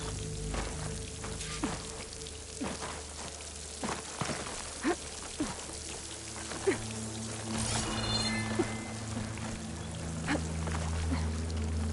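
A steady rush of falling water from a waterfall in the Horizon Forbidden West video game fills the scene, with scattered drips and splashes, a low hum and occasional sharper knocks and chirps layered over the continuous wash.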